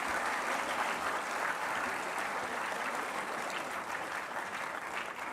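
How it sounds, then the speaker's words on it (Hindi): Athletes clapping at an award ceremony in Lucknow: soft, even applause from a gathered group that holds steady throughout without cheers. "खिलाड़ियों की तालियां इतनी हल्की कैसे हो सकती हैं दोस्तों?"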